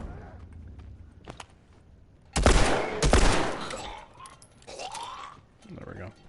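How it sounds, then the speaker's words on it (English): Gunfire in The Last of Us, played on Grounded Plus: one loud gunshot at about two seconds with a dense burst and lingering reverb, then a second crack, fading into softer game ambience with some sound effects afterward. "I think I'll shoot him."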